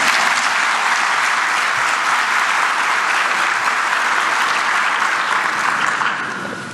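An audience at a corporate tax seminar claps in sustained, dense applause filling the room, loud and even, fading slightly at the very end.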